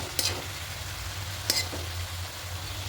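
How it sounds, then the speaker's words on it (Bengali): Chicken and cabbage being stirred in a pan, with a steady close sizzle and two brief scraping strokes of the spoon about a second apart. "এবার সবটা খুব ভালো করে মিশিয়ে নেবো"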